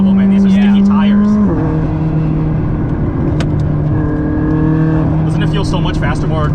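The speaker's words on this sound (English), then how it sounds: "You can hear all the gravel, man." A car on sticky tires drives over gravel, its engine droning loud and close with a clear pitch shift as it changes gear, and a steady crunch runs underneath while people talk inside the car.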